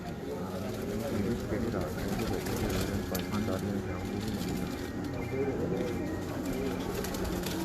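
Pigeons cooing in a pigeon-keeping setting, a steady layered murmur of low coos running throughout at moderate loudness, with people talking over it.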